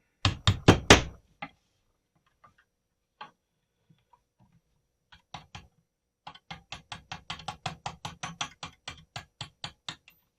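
Pins are knocked out of a Zastava pump-action shotgun during disassembly, heard as a quick burst of sharp metallic taps, scattered single knocks, then a long run of steady, evenly spaced hammer strikes, close and crisp.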